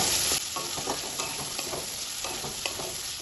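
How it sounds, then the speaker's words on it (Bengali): Cut potatoes sizzle in hot oil with fried tomato and onion for a pumpkin chokka, a steady close frying hiss with soft stirring scrapes throughout. "আলুটাও তেলের সাথে একটু ভেজে নেব"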